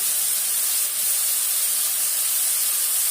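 Liver sautéing in a pan with turmeric and salt gives off a steady, close hiss of sizzling, unbroken throughout.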